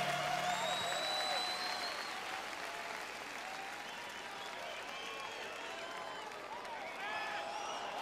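Applause from a large outdoor crowd at a concert at the Quinta Vergara in Chile, 2008, a dense roar of clapping held steady for about eight seconds, with whistles and cheers rising above it and a brief swell near the end.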